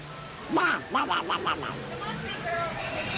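A voice imitates the cartoon character Donald Duck with a burst of raspy, quacking syllables in quick succession, close and fairly loud, followed by quieter background chatter from a crowd at Disneyland.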